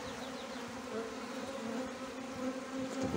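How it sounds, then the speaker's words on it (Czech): A defensive honey bee colony hums steadily during a hive inspection, a dense close buzz with individual bees whining past. "Tohle včelstvo bylo hrozně ostré, proto jsem tady matku měnil."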